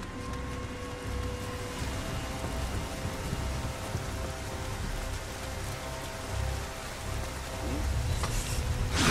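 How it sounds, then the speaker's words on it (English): Steady, dense rain falls in the game Nioh, a continuous hiss with faint low rumbling underneath and no pauses. "The rain is too loud."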